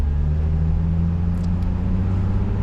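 A Nissan 350Z Roadster with its 3.5-litre V6 of 280 horsepower idles and rumbles steadily as it pulls away, a low, constant engine drone close by with no talking.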